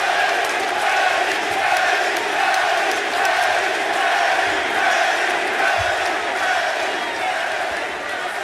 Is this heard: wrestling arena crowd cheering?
yes